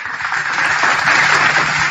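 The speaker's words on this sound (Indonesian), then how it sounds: "Tepuk tangan dulu, teman-teman" A gathered crowd breaks into brief applause, a dense wash of clapping lasting about two seconds.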